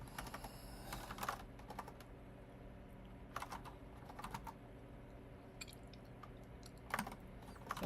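Typing on a computer keyboard while writing code: soft, close clicks come in uneven bursts with short pauses between them, quiet and steady against faint room noise.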